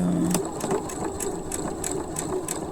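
Sewing machine running steadily while stitching a French seam on flat woven fabric for a child's dress, a close, continuous whirring hum with regular rhythmic ticks, no talking.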